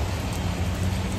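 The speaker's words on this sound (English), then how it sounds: "It is raining today." Steady rain falls in Boston, an even, dense hiss of drops on surfaces with a low rumble underneath, close and continuous with no voices.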